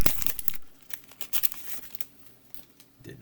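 Hands tear open the foil wrapper of a Magic: The Gathering Innistrad Remastered play booster pack, giving close, loud crinkling and ripping bursts followed by quieter rustling of the wrapper, with no voices.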